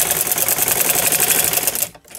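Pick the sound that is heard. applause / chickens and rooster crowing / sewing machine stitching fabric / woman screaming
sewing machine stitching fabric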